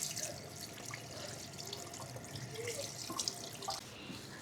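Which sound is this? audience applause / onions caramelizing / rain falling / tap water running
tap water running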